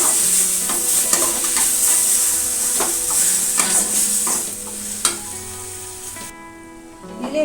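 Dried curry leaves and a couple of salt crystals sautéed in a clay pot, sizzling steadily in hot oil while a spoon stirs and scrapes against the earthenware, the frying easing toward the end.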